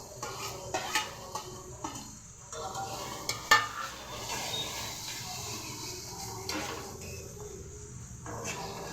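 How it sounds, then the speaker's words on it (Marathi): Tomato paste being stirred and sautéed in a pan for a paneer curry, with a spoon scraping and clinking against the pan at an irregular pace over a soft, steady sizzle, close by. "टोमॅटोची बारीक पेस्ट केली आहे ती आपण चांगलं परतून घेऊ आता"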